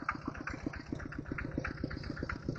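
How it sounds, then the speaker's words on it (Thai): A modified farm tractor engine running at a steady idle, low and rhythmic with a regular chugging beat, fairly faint, no voices. "รถไถแต่ง"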